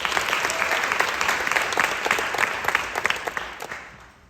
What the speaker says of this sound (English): we're still going to say his name and clap for him